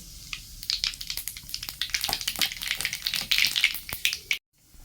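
Kalonji (nigella seeds) fry in mustard oil in a wok, crackling and popping in rapid irregular bursts over a sizzling bed, fairly close and loud, ending abruptly.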